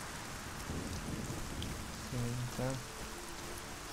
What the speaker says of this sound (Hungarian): Több az eső alig-alig lehet látni minden